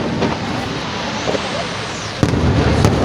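Fireworks burst in time with music at a pyromusical competition, a dense crackling roar with a sharp loud boom near the end, under faint crowd voices.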